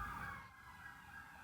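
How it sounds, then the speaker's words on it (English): An ambulance siren wails faintly at a distance as it passes, a steady high tone that fades slightly midway, with no talk over it. "I know you hear the ambulance coming by"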